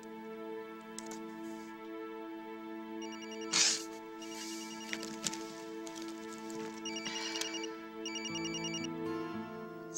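A telephone rings in a home setting, with repeated bursts of a ringtone coming in short groups over a soft, sustained musical background. The ringing is fairly faint.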